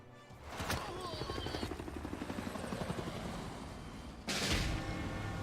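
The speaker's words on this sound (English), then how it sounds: "Oh, they got rid of my helicopter." Helicopter unit being destroyed in the strategy game Civilization 6: a rapid rotor chop under a dense battle rumble, ending in a sudden loud explosive burst.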